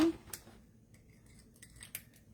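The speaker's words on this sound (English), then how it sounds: "let's get these scissors out of the way" A pair of crafting scissors gets picked up and set aside on a card-making table, giving faint light clinks and soft knocks against a quiet background.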